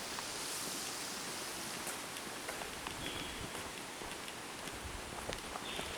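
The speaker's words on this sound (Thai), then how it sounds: "นะครับได้ยินเสียงน้ำเนาะ" Running water near a cliff in a cool, humid mountain spot makes a faint, steady hiss that carries on unbroken throughout, with no voices.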